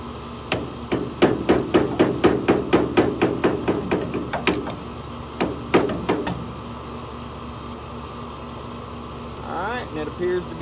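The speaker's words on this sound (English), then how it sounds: "So I'll take a long flathead screwdriver and just tap it." Snap ring tapped into its groove with a long flathead screwdriver on a 1973 VW Beetle Volksrod rear wheel bearing: a quick series of sharp metallic taps, then a few slower strikes, close and loud over a steady background hum.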